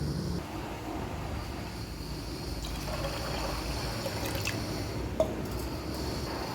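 Chickpeas boil in an ordinary pot of water on the stove, producing faint, soft bubbling and gentle trickling, with one small sharp drip near the end.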